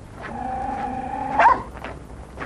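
A dog barks outdoors at night, a few short yelping barks at moderate distance over steady background hum, with one louder bark near the middle.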